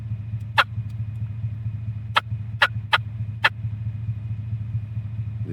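Wild turkeys in the Idaho mountains gobble in five short, distant bursts, one alone and then four close together, over a constant low engine hum.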